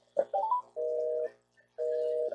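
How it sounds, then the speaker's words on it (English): Telephone busy signal heard through a handset: a short dialing chirp, then two sustained steady tones separated by a brief silence, loud and alone. "It's actually a busy signal"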